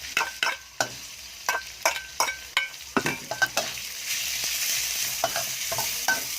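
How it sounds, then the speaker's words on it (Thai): Pork belly stir-frying in a hot pan, a steady sizzle broken by repeated sharp scrapes and clanks of a spatula stirring, close and fairly loud. "ผัดมันหอม แล้วก็ใส่หมูสามชั้นลงไปเลยนะครับ"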